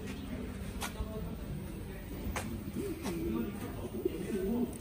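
Pigeons coo in soft, repeated low phrases at close range, with people talking over them and a few brief clicks.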